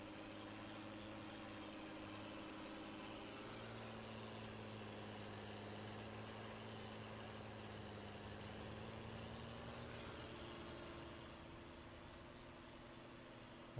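Tractor engine idling in the Farming Simulator 19 video game, a steady low drone that continues unbroken throughout, fairly faint with no one speaking.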